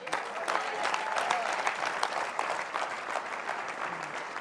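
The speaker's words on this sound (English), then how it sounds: "Clap loud." A congregation at a leadership sermon claps loudly in response, a full, continuous burst of applause with crisp hand claps audible within it, holding at an even level for several seconds.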